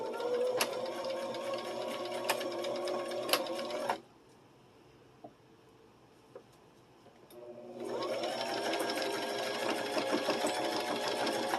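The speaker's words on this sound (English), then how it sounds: "you're going to continue sewing down the whole rest of this top side of your fabric" A sewing machine stitches along the top edge of quilting fabric in two steady, close runs of rapid mechanical chatter, separated by a few seconds of near silence.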